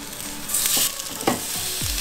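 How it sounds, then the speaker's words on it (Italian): Chicken burgers and pre-fried chips cook in an oil-free air fryer, giving a soft steady sizzle with a few brief clicks and scrapes layered on top. "Cucinerò nella friggitrice senza olio."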